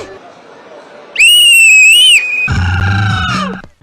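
A whistle is blown in one loud, shrill, sustained blast lasting about a second, then a noisy burst of shouting voices follows.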